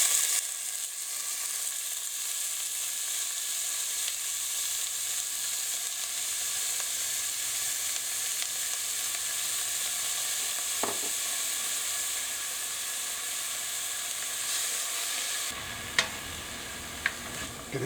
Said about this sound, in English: Then I'm going to put the onions in.